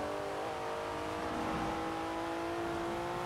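A Porsche 911 engine in the Forza Horizon 4 racing game drones steadily at a sustained pitch throughout, loud and close, with no talking.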